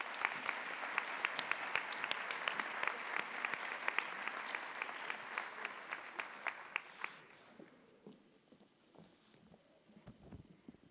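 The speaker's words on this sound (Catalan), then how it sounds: "Molt bé, un fort aplaudiment." Audience applause at the Sant Cugat Awards 2024 gala, a dense, steady clapping from a large crowd that carries for about seven seconds and then fades out, leaving a quiet room with a few stray sounds.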